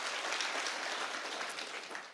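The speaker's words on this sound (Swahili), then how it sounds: "mjipigie makofi" An audience at a county security forum applauds, a dense, steady clatter of many hands clapping with no break before it fades slightly at the end.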